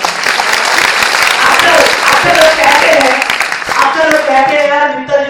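Audience applause fills a hall at a motivational talk, dense steady clapping throughout, loud and close, with a voice or two rising over it near the end.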